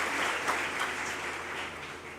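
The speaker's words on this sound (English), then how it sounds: "A big round of applause from Megatron team" A student parliament audience at an international spring colloquium gives a team representative a round of applause: dense, steady clapping from a crowd, fading slightly toward the end.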